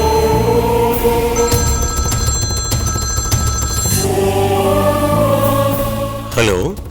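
A telephone rings in a household drama scene, a sustained electronic ring lasting a few seconds over background music, followed by a brief sweeping tone near the end, with no clear talk.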